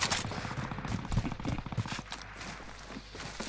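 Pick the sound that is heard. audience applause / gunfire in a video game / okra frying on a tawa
gunfire in a video game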